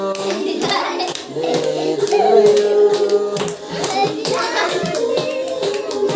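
Several people clap their hands together at a child's birthday party, a steady busy patter of claps running close by throughout, with a voice and other talk mixed in.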